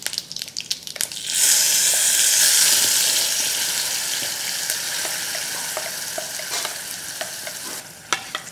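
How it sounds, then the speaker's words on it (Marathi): Mustard seeds, asafoetida, curry leaves and a tomato mixture hit hot oil in a tempering for tomato saar, bursting into a loud, steady sizzle with crackles and stirring clinks, close up. "मोहरीचा खमंग असा तडका बसला पाहिजे, फोडणी बसली पाहिजे."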